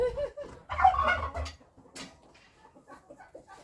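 Chickens, turkey hens and a tom turkey clucking and gobbling in a noisy burst while feeding, then quieter scattered bird calls nearby.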